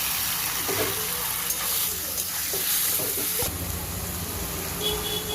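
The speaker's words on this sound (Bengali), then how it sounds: "এবার এই ফোড়নের মধ্যে চিংড়ি মাছগুলো দিয়ে ভেজে নিয়ে একবারে কচু শাক তুলে দেবো।" Prawns and taro leaves fry in spiced oil tempering, a loud close sizzle broken by stirring scrapes of a spatula in the pan, with a sudden swell of hissing partway through.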